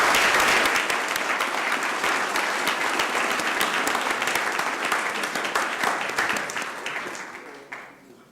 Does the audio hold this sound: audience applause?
yes